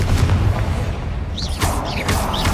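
Fiery Confringo blast spells from the game Hogwarts Legacy: booming, rumbling bursts with sharp whooshing crackles and swept magical tones, repeated several times over a dense game soundscape.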